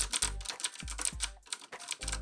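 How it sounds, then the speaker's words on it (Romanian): Typing on a mechanical keyboard with Cherry MX Red switches, captured through an Antlion ModMic Wireless: fast, loud clusters of key clacks in irregular bursts with brief pauses, close up and alone. "Da, se aude foarte tare, dar asta și pentru că este o tastatură Cherry Red."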